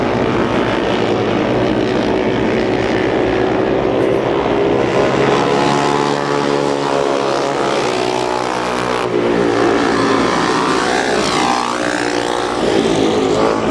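Vintage motorcycles roar by in a district classics race, a loud continuous drone of several engines with rising and falling pitch as bikes pass close, no voices.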